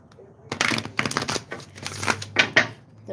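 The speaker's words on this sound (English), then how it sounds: "we're going to go ahead and shuffle the cards" A deck of playing cards being shuffled up close, with a series of crisp riffling bursts and papery flutters over about three seconds.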